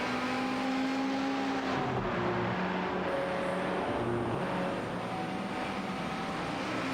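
Race cars in a 24-hour endurance race at the Nürburgring, their engines droning steadily at a distance with shifting pitch, forming a continuous broad roar with no talk over it.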